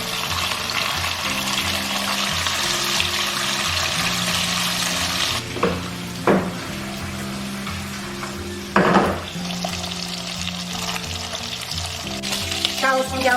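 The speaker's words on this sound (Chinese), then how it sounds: "锅里少许底油，加入肉片，小火慢炸。" Pork slices frying slowly in a little oil in a wok over low heat, a steady soft sizzle with occasional louder crackles and spatters from the pan.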